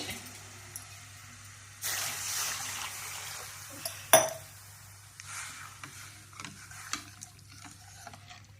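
Water is poured into a pot of brown rice for a traditional Karnataka-style bisibele bath, a soft rushing splash lasting a couple of seconds, followed by a sharp clink of a vessel and light kitchen clatter.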